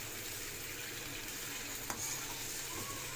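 Green chilies frying in hot oil for a quick raw mango pickle, a steady close sizzle and crackle that fills the whole moment without pause, with one small clink partway through and no voices.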